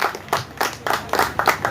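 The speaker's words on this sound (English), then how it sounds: "A round of applause for our chairman." Applause for the chairman at a commissioning ceremony for a blast freezing centre, a short burst of clapping from a crowd, fairly loud, rising and falling in quick waves.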